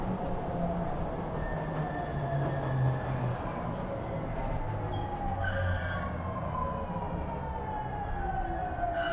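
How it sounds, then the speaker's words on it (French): Metro train in the video game Stray, a continuous rumbling ride with drifting tonal whines and a brief metallic burst partway through, heard without talk. "Un chat qui conduit un métro"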